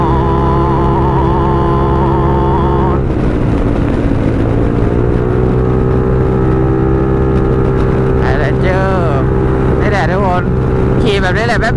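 A Honda Forza scooter engine revving at high rpm, with a loud, steady drone that dips and rises as the revs shift, close up with wind rush, while someone talks over it.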